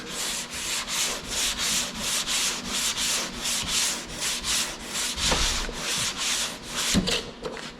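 Block sanding a Dodge car door by hand, a steady rhythmic rasp of repeated back-and-forth strokes, close and loud, with a few brief knocks near the end and no talking.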